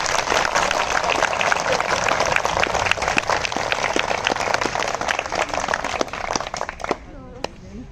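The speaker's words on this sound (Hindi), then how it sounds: "बेहद कमजोर तालियां हैं ये।" Sustained applause from a protest crowd at a hunger-strike gathering fills the scene with dense, even clapping that thins out and fades near the end, leaving a few scattered claps and a voice.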